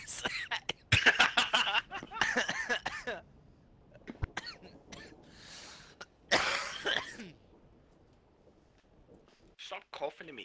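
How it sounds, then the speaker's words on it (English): Coughing and throat clearing picked up close on a headset microphone during an online For Honor match, several loud bursts mixed in with voices talking over the chat. "Stop coughing in my ear"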